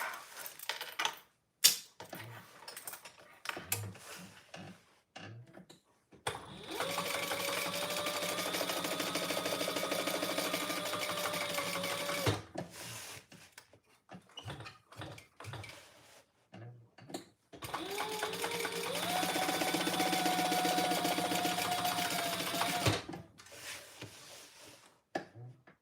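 Home sewing machine basting the sides of a fabric travel case, running in two long steady bursts of rapid mechanical stitching, with quiet handling clicks and pauses between runs.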